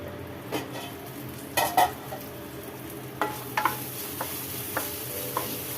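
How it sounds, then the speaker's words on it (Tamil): Bitter gourd sautéing in hot oil, a steady sizzle with a scatter of spatula scrapes and light clacks against the pan, fairly close and with no one talking. "இப்போ இது நல்லா மிக்ஸ் பண்ணிவிட்டு இந்த எண்ணெயிலே இது நல்லா வதங்கி வேகட்டும்."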